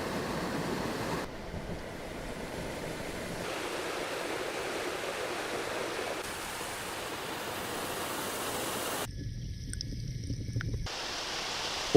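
Steady rushing water from waterfalls and a stream in the wild, a continuous broadband roar that shifts in tone between segments, close and unbroken with no voices.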